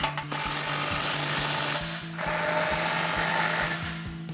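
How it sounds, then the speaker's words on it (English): A ratchet tightens an exhaust clamp near the axle on a 2007-2013 Chevrolet Silverado 1500 dual exhaust system, producing two close, loud bursts of rapid clicking separated by a short pause. "we're gonna tighten our clamp by the axle"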